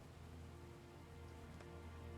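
Steady rain falls in a swamp area in the video game Guild Wars 2: Janthir Wilds, a soft continuous patter with a few brief drips, quiet and alone with no talking.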